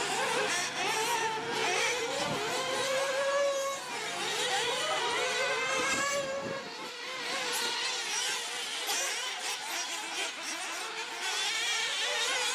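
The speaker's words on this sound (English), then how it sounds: "He is running an Alpha Dragon 4 engine and rolling on Sweep Defender tires." Nitro RC trucks racing at a dirt oval track event, one running an Alpha Dragon 4 engine on Sweep Defender tires, several small engines screaming and whining at high pitch, rising and falling as they pass close by, continuous throughout.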